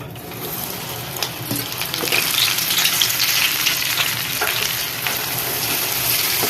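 Sweet corn kernels frying in hot oil, a loud, dense, continuous sizzle close by with occasional crackles and pops, steady throughout.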